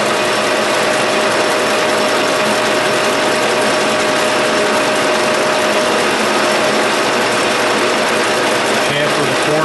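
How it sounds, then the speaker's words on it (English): A milling machine faces off and chamfers metal parts, producing a loud, continuous mechanical whir and grinding buzz with a steady tonal whine, running unbroken and close throughout. "I'm just going to face it off and chamfer the edges on all 4 of them"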